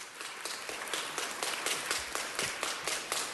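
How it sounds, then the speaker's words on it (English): A city council meeting audience applauds for Sierra, steady rhythmic clapping from a small crowd that is moderately loud and slightly distant, continuing without pause and with no talk. "let's give her a big round of applause"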